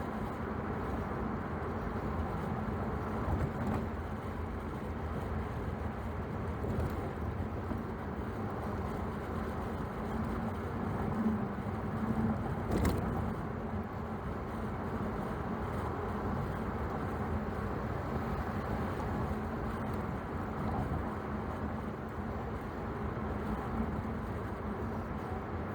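A Corvette cruises along a road through a large Texas airport, heard from inside as a steady, even engine and road rumble with constant tire noise and no voices.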